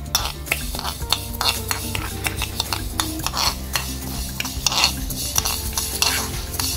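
Fennel, fenugreek and nigella seeds roasting in a pan for mango pickle spice, steady stirring scrapes and light metallic clinks of a spoon over a gentle sizzle, close and continuous.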